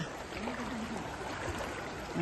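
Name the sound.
fast-flowing floodwater after heavy rain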